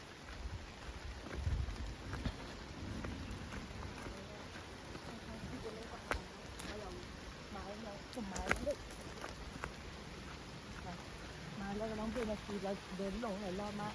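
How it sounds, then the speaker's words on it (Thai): Heavy rain pours down outdoors at night in a forest, a dense steady hiss with scattered louder drops and patters close by, occasional rustles and brief sharp knocks throughout. "ฝนตกแรงมาก"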